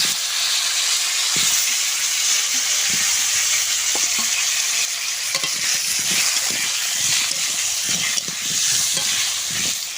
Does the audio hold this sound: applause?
no